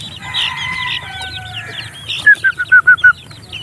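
A white Kelso gamefowl rooster crows in a clear, loud burst of pulsed notes near the end, following quieter clucking and bird calls in the background of a gamefowl range.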